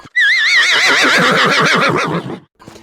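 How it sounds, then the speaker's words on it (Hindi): A horse in the video game Red Dead Redemption (RDR1) gives a loud, close, wavering whinny lasting about two seconds. It stands alone, with a few faint knocks after it fades. "अरे मतलब मेरा घोड़ा उछल क्यों रहा है?"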